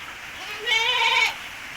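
A native goat bleats once, clear and wavering, on a goat farm during rainy season, over a soft steady patter of rain falling around the pens.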